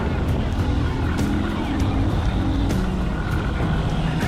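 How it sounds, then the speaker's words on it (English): Motorbikes roar at high speed across open grassland while chasing wild boars, a steady, loud engine drone with rushing wind noise that holds without a break. "we mounted our motorbikes and launched into a high-speed chase after the wild boars"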